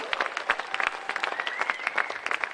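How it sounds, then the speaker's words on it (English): Applause from the audience at a fall welcome reception, a steady patter of many hands clapping at moderate volume throughout, with a couple of faint voices underneath. "a round of applause again for everybody"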